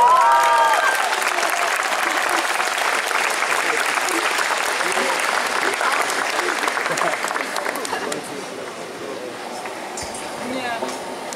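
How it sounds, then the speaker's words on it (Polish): Audience applause at an outdoor Bydgoszcz regional festival stage concert, a sustained dense clapping from a large crowd greeting a performer, loud and steady, tapering slightly toward the end with occasional cheers mixed in. "I oto jest na scenie i teraz bijemy brawo."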